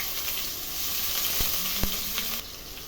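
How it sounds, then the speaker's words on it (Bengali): Onion paste hits hot oil for a Bengali pabda fish curry, giving a steady close sizzling hiss throughout with a couple of faint utensil taps. "সবার প্রথমে পেঁয়াজ বাটাটা দিয়ে দেব"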